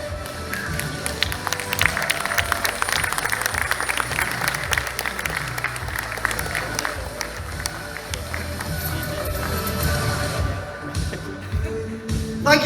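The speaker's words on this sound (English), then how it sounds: "Give Santi a massive round of applause" An audience at a corporate data and AI forum opening event claps in dense, sustained applause that fills the room, with a few scattered louder claps as it tapers near the end.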